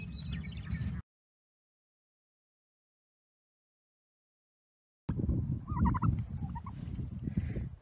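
Penned turkeys on a homestead gobble in short bursts, close by, with a long stretch of silence between the first call and a busier run of gobbling at the end.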